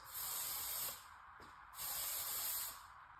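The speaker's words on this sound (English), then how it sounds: "I literally will just give it a few spritz and just let the spray fall down onto the couch" Spritzes of fragrance spray onto a couch: two sustained hissing bursts, each close and about a second long, separated by a brief pause.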